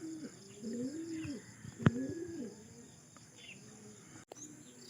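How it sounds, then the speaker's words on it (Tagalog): Racing pigeons back from island training coo in soft, repeated rolling calls close by, with one sharp click partway through and a faint steady hum behind. "At ito na mga kalapatids, may dalawa."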